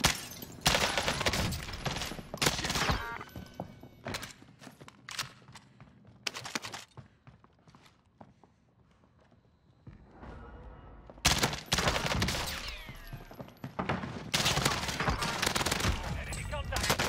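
Gunfire in Call of Duty: Warzone comes in loud bursts, with rapid volleys at the start and again near the end and a quieter stretch in the middle.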